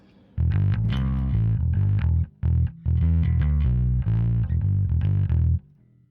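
Bass guitar played through a Spaceman Effects Saturn VI pedal with the tone knob turned fully right, a loud, sustained run of distorted, bright notes with two short gaps.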